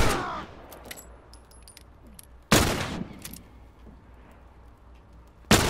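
Gunfire from The Last of Us rings out in three sharp, loud blasts: one at the start, one in the middle and one at the very end, with a quieter gap between them.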